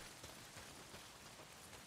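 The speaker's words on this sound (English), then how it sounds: "Well, not if it's pissing down rain." Heavy rain pours in the video game Days Gone, a steady dense hiss of drops hitting surfaces that stays loud and even throughout with no pauses.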